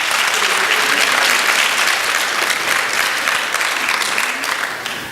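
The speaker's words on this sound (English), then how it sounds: "Can we just give them a round of applause" An audience applauding after church performances, dense sustained clapping throughout, loud and close, tapering slightly at the end.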